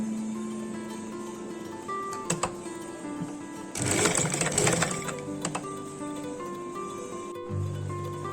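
A sewing machine runs a line of stitches along a folded half-inch hem on a skirt. Its motor whirs steadily and loudly in one main burst of about a second and a half, with lighter ticks before and after, and no talk.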